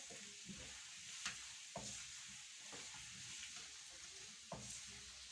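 Potatoes fry in butter in a handi, a soft, steady sizzle with intermittent scraping stirs and occasional clinks of the spoon against the pot, quiet and close with no talking.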